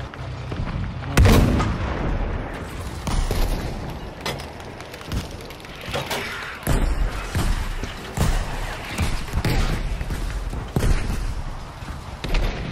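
Heavy cannon blasts from a Sherman tank in the Battlefield V battlefield, loud booming shots recurring irregularly amid dense gunfire and rumbling explosions, with no talk over them.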